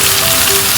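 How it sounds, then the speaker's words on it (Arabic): Onions fry in butter and oil in a pan while being stirred, giving a loud, dense, close sizzle that holds steady for a brief moment with no voices. "هنقلب كده البصل كله"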